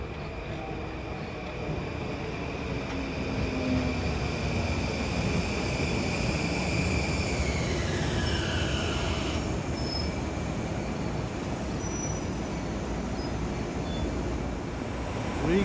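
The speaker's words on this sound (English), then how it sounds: "Coming in westbound at New Hyde Park at 4:53 is train 1559 from Huntington to Penn Station." An LIRR M9 commuter train, car 9129, pulls westbound into New Hyde Park on the Huntington-to-Penn Station run, with a steady close rumble of wheels and a high wheel squeal that slides down in pitch partway through.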